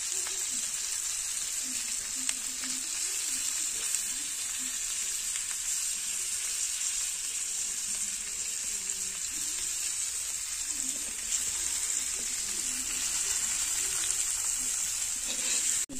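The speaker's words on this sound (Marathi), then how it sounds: "मित्रांनो, आम्ही हे 2 डेंगे पण फ्राय करून बघतोय बघा कसे होतात ते." Crab claws fry Malvani style in a pan, giving a steady bright sizzle throughout with faint stirring and bubbling beneath, close and moderately quiet, no talking.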